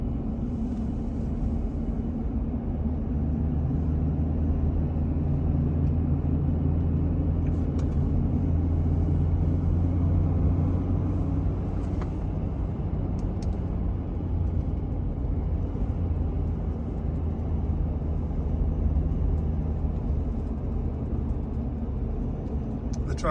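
Steady low rumble of tire and road noise heard from inside a truck cruising a snowy winter canyon road near Red Rocks, Colorado, continuous and even with no sharp events, no talk over it.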